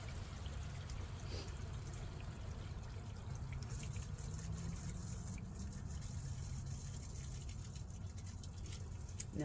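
Waste pours out of an RV black tank as it drains, a continuous faint gushing, trickling flow that holds steady throughout with no talking.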